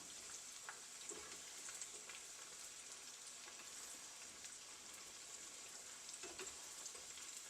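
Brinjal and plantain fry in oil, giving a faint, even hiss of bubbling with scattered soft pops over several seconds and no voices.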